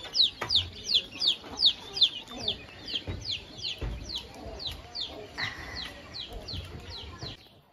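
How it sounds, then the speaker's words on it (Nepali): Chickens at dusk clucking repeatedly in short squawking bursts, close and fairly loud, with a few thumps and faint talk in the background. "अन्त मम्मा चाहिँ यहाँ कुखुरा छोप्नु हुँदैछ। बसिसक्यो कुखुरा"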